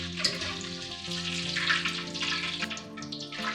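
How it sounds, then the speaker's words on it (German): Pork and pineapple balls deep-frying in hot oil, a dense, steady bubbling sizzle heard up close with a few brief crackles and pops rising above it. "3 bis 4 Minuten frittieren."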